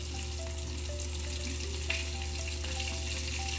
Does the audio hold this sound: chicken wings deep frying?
yes